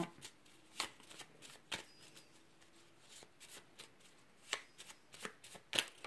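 Oracle cards shuffled for a reading, soft riffling and flicking bursts repeating irregularly, close but very quiet, with faint room hiss between them.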